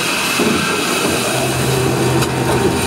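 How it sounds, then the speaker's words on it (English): Giant brewery rollers crushing malted barley grind and rumble continuously, a dense rolling crush with a low steady drone and scraping texture throughout. "That's the sound of the gigantic rollers directly beneath me."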